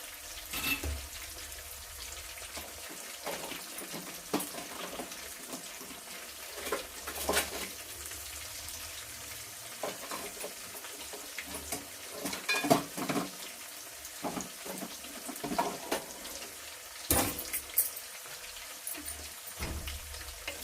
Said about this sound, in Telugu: ఇలాగా వేయించుకోవాలన్నమాట కొంచెం టైం పడుతుంది ఇవి కొంచెం వేగడానికి టైం పడుతుంది